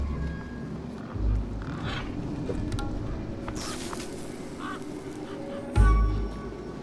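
A big, familiar-looking bird in Beyond a Steel Sky honks repeatedly at close range, with scattered calls over a low background and two heavy low thuds, one early and one late.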